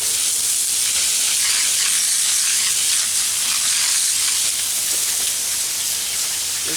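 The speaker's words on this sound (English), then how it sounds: "clean it all out with a hose" Garden hose spraying water into a crack in a concrete house foundation to flush out dust, a steady close-up hiss and splash that runs unbroken throughout.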